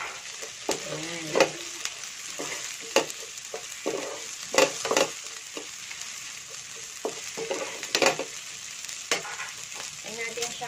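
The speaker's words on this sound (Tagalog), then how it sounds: "Tayin natin siyang ma-fry ng konti." Carrots and red chili fry in a pan after onions for sweet and sour fish, a steady close sizzle broken by repeated sharp scrapes and clacks of stirring, with no talk.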